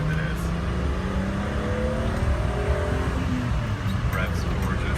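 A BMW 325is engine revs up through rising, sweeping harmonics while the car is driven at speed, with loud steady road and engine noise throughout and some speech mixed in.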